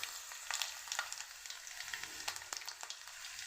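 Garlic cloves frying in hot oil in a pan, a steady close sizzle with small crackling pops throughout, no voices.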